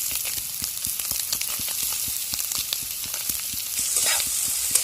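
Chopped tomato sizzles in a pan with fried potato and egg, a steady close crackle with regular scraping stir strokes and a brief hiss surge near the end.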